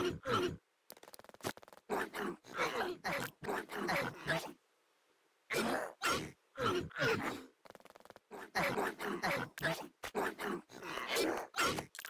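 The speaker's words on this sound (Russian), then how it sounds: "Здесь я решил отстрелять собак с крыши." Dogs in PUBG Metro Royale growl and grunt in repeated short bursts, shot at from a rooftop, with brief silent gaps between the outbursts.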